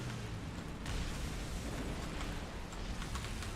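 Explosion rumbling in the War Thunder tank battle, a broad dense roar that swells slightly near the one-second mark and holds steady with scattered crackling bursts throughout, no voices.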